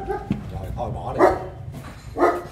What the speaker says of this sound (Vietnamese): Nghe tiếng sủa uy lực quá.